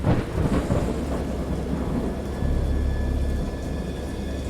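A wild storm in the horror game Dagon, with low rolling thunder rumbling under steady rain, a continuous dark roar that swells slightly midway and never lets up.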